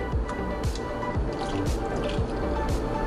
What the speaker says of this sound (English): And get a ladle for more broth.